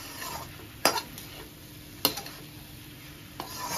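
A spoon stirs potatoes and capsicum seasoned with ajinomoto in a pan, with a few sharp metallic clinks against the pan over a faint, soft sizzle.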